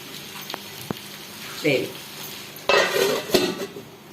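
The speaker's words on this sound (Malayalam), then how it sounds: "ഇതൊന്ന് ജസ്റ്റ് ഒന്ന് ഇളക്കി കൊടുത്താമേ നന്നായിട്ടൊന്ന് ഇളക്കി കൊടുക്കും" Chicken roast masala being stirred in a pan, with a few light metallic taps, then louder bursts of a spoon scraping and clanking against the pan, set against a quiet background and a brief murmur of a voice.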